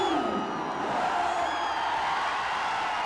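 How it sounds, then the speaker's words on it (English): A large partisan cricket crowd in a Chennai stadium roars and whoops continuously at a celebrity match, a dense, sustained wash of cheering from the stands. "Very partisan crowd here"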